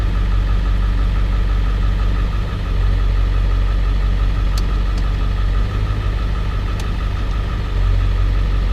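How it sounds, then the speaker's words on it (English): A 2001 Ford F-250 Super Duty pickup with a 4R100 transmission idles steadily up close, a constant low rumbling drone with a faint mechanical knock throughout and no talk. "So I'm going to let it idle for a while"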